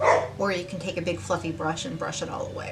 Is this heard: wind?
no